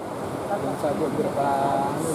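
Large ocean waves surge and wash onto a damaged Papua beach, giving a continuous broadband roar mixed with wind noise on the microphone. Faint voices can be heard under it.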